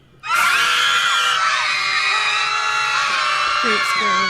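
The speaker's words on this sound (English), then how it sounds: "Group scream." Group scream from the film Casper, a party crowd in a house shrieking together at once: a sudden burst of many high voices that holds, loud and dense, for several seconds.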